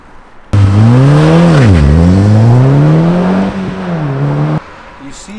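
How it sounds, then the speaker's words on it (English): An Audi S3 8P launches hard with its front wheels on the edge of a burnout. The engine roars loudly, dips briefly at a shift, climbs again and then cuts off after about four seconds. "You see where the front wheels wanted to go? They wanted to do a burnout."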